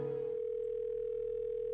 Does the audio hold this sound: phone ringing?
yes